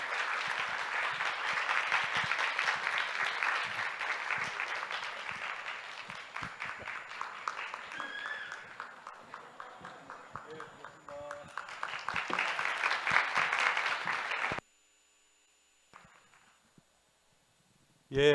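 A seated audience at an open forum on the Korean peninsula applauds to welcome the Minister of Unification, long steady clapping under brief voices that stops abruptly, followed by near silence and a final voice.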